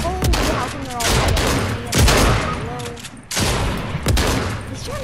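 Gunfire crackles in Fortnite during a frantic fight, with bursts of shots stacking into near-continuous volleys that rise and fall across the moment, loud and close, over faint game sounds.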